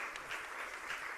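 Brief applause from a church congregation at a Sunday evening service for youth students called forward, a soft, even wash of many hands clapping in the room.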